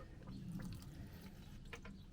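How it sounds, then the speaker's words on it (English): A gentle trickle of water soaks into the soil of a seed tray nearby, soft and steady with a few faint drips toward the end. "then we give it a wee soak with water"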